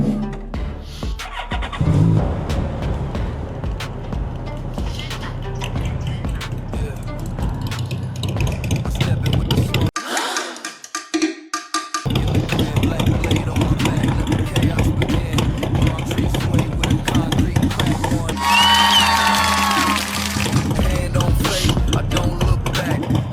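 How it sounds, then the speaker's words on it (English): A Yamaha FJR motorcycle engine drones steadily while riding, loud and continuous with a brief drop partway through; someone talks over it at times. "Today we ride in the FJR."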